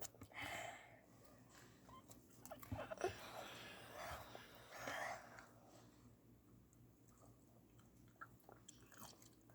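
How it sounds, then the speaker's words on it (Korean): Close, quiet chewing and biting on roll-up jelly beef jerky, with soft crunchy and wet mouth sounds in scattered bursts and faint background murmur. "이제 저도 한번 롤업 젤리 진 육포 먹어보겠습니다"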